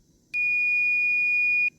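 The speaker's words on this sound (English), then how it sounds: "you can hear the phone beeping because we're not connected to the sailbot" A phone app for a sailbot gives one steady, clear electronic beep lasting over a second, sounding alone against quiet background because the phone is not connected to the boat.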